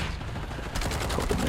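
Gunfire in the video game Warzone, a rapid burst of automatic shots starting abruptly and continuing loud and close.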